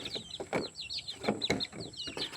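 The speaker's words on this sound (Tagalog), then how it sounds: "Ito yung manok natin guys." Several chickens in a coop clucking and chirping in quick, overlapping bursts, close by with no voices, the calls rising and falling in short irregular phrases.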